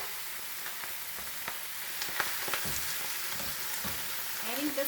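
Pork belly and Chinese broccoli stir frying in a pan, a constant soft sizzle with occasional clinks and scrapes of stirring, moderately faint and steady throughout.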